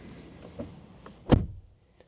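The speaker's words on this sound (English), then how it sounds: "I'm going to close the door." The driver's door of a 2000 Toyota Crown Royal Saloon shuts with a single solid, close thud, preceded by faint interior rustles and followed by quiet.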